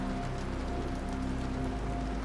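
Heavy rain pours down steadily, a dense continuous hiss of drops on surfaces with a low hum beneath, no voices.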